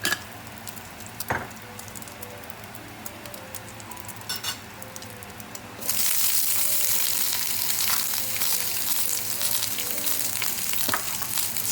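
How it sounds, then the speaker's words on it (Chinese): Green peppers stir-fried over high heat in a wok beside pushed-aside cooked egg, with a steady sizzle that jumps sharply louder partway through and carries on as a dense, continuous frying hiss with occasional clatter. "青椒大火翻炒大约45秒"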